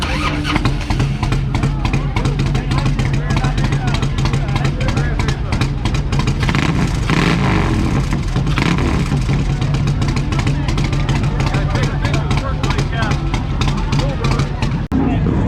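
A 2020 Moto Guzzi V7 Racer 10th Anniversary Edition motorcycle engine runs at a steady idle and rises in revs midway, loud and close, with voices talking over it.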